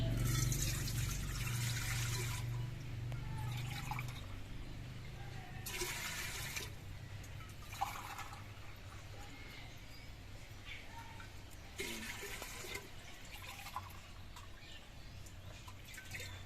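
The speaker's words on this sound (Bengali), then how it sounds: "আমি 4 মগ জল দিয়েছি" Water poured by mug into a cooking pot for chusi pitha, four separate splashing pours in bursts, each a few seconds long with quiet gaps between, faint and close.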